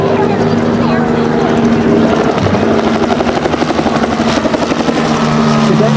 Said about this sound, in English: you're going to get a chance to see a helicopter do something sort of unusual